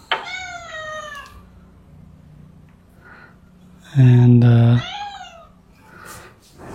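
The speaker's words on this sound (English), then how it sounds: "feed these hungry cats" Hungry cats meow repeatedly at close range, several rising cries overlapping, with a person talking nearby and a loud, brief low thump partway through.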